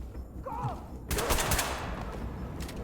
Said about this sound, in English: I'm shooting at the stairs